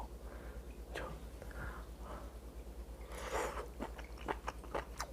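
Someone eats a freshly caught long-arm octopus (nakji) in Taean, South Korea, giving close, quiet wet chewing and a few crunchy bites over a low steady hum, with no talking.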